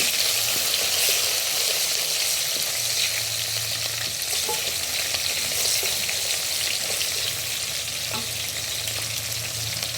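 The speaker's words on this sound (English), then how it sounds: "adding the chopped onion. So I'm going to stir it." Chopped onion and salt fry in hot oil for a Nigerian vegetable soup, giving a constant loud sizzle with occasional scraping and stirring sounds from the pan.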